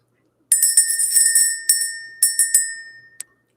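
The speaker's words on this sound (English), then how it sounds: "Let's go ahead and ring the bell." A small bell rings in a morning spiritual ritual to clear energy. Bright, close, shimmering strikes come in a quick irregular series, then a few louder hits, and each ring trails off before a last light tap.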